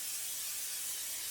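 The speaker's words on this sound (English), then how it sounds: "And now I'm going to spray the lid to my bowl" Cooking spray is sprayed onto the lid of a bread-dough bowl while making cinnamon swirl bread, one continuous close, bright hiss lasting just over a second.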